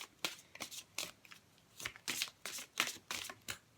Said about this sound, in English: let's pull an oracle card out for you.